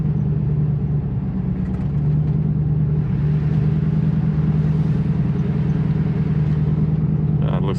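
A Ford Crown Victoria with a swapped 7.3L Godzilla V8 drives along, its engine a loud, steady low rumble heard from inside the car, with a slight change in tone mid-clip as it shifts gear.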